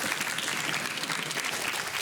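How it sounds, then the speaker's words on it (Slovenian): Dense audience applause in a school quiz show studio, steady and loud throughout with no gaps, a crowd of many hands clapping together. "En aplavz!"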